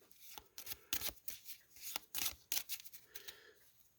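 A board game event card deck is shuffled by hand, with a quick series of close, crisp riffling and snapping card sounds over about four seconds and no talking.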